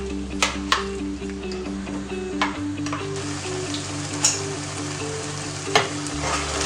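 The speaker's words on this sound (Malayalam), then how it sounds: "ഹൈ ഫ്ലെയിമിൽ തന്നെ വെച്ചിട്ട് നമുക്കതൊന്ന് നന്നായിട്ടൊന്ന് ഇളക്കി കൊടുക്കാം." Ground paste for butter chicken fries on high flame while being stirred, a continuous loud sizzle broken by sharp scrapes and knocks of the spoon against the pan, with a steady low burner hum underneath.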